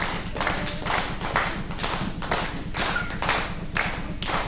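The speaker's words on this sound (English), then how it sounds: "Let's see a bit of that clap again," A primary school class in Altona performs its own rhythmic group clap, a fast regular run of thumps and slaps repeated in quick bursts, close and loud, with no talking over it.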